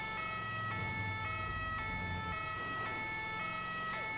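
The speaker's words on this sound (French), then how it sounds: "J'y vais en full de ton gyro là. Comme ça on se fait bien entendre, on se fait bien voir." Ambulance siren from a French SAMU emergency vehicle in GTA 5 wails steadily at full volume, repeating its two-tone cycle about every half second over low engine rumble, with no talk.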